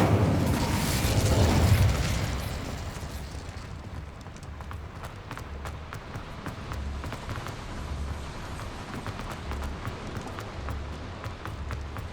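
The Incendio fire spell is cast in Hogwarts Legacy, opening with a loud whooshing burst of flame that fades into a steady crackling, rumbling roar of fire with rapid clicks over many seconds.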